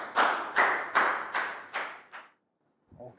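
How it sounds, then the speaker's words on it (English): A Year 3 class claps for a pupil in a classroom, about five distinct group claps in a steady rhythm, fairly close and loud, then a brief pause and a faint final sound. "Big round of applause for Bang Pon."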